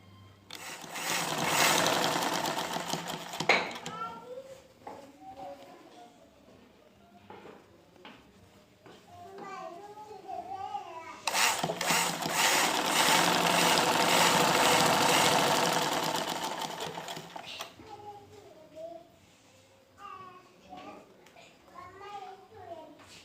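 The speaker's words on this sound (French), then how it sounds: "Donc nous procédons à la couture." Sewing machine stitching the edges of an extra-large dress with thin straps, two long bursts of rapid mechanical whirring separated by quieter gaps where someone talks.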